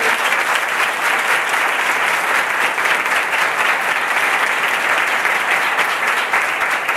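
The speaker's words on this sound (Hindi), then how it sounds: "जरा यीशु मसीह के लिए ताली बजा दें" A church congregation applauding in praise of Jesus Christ, loud, dense and sustained clapping from a large crowd with no break for the whole stretch.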